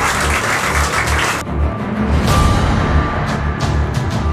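A crowd claps loudly in a dense wash, dips briefly, then carries on with thinner, scattered claps that keep going to the end.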